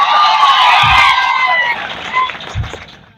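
A big, enthusiastic crowd cheers loudly at a political rally with a roaring, shouting wash of voices that peaks early, then thins and fades over about three seconds.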